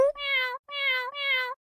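Three drawn-out meows from a cat follow one another in a steady rhythm, each clear, close and tonal with rich harmonics, and a short burst of noise comes at the very end.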